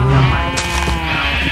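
Minecraft donkeys give a loud, close braying call, a short nasal bleat-like cry, in a survival world with a low game background underneath.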